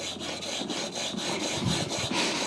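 A handplane blade is rubbed back and forth on a sharpening surface with a regular, steady rhythm. Each close, gritty scraping stroke repeats several times a second, with no voices over it.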